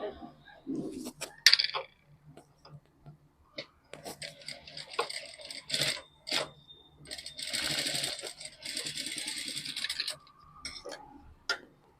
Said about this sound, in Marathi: इथे अशी शिलाई मारून घ्यायची